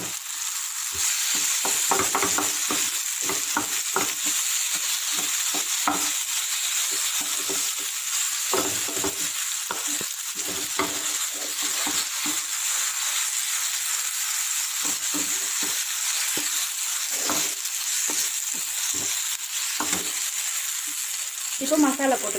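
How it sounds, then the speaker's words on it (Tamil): Mashed potatoes are stirred into frying masala in a pan, with a constant hiss of sizzling oil under many quick, irregular scrapes and taps of a spoon. "இப்போது இதிலே நம்ம மசித்த உருளைக்கிழங்க கொட்டிடலாம்."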